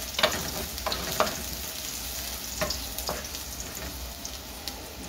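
Ginger frying in hot cooking oil for a Filipino ginataang mongo, a steady broadband sizzle running throughout, broken by a few sharp clicks and taps from a utensil, close and moderately loud with no voices.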